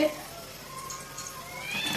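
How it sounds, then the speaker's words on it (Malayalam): A kitten meows in thin, rising cries over a steady background hiss of ghee and oil heating in a pan nearby. "ഈ പൂച്ച കുട്ടികൾക്ക് എന്തിൻ്റെ കേടാണ് അല്ലേ"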